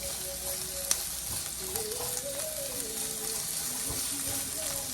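Chopped onion frying in hot oil in a pan, giving a steady soft sizzle with a faint tonal hum in the background and one brief clink.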